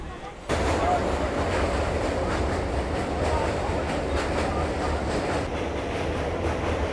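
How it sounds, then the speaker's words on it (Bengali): A train rolling into Bandel Junction station, a steady rumble and rattle of carriages starting abruptly and continuing evenly, heard from on board at moderate loudness. "এখন আমাদের কিন্তু ট্রেন প্রবেশ করছে ব্যান্ডেল জংশনের দিকে।"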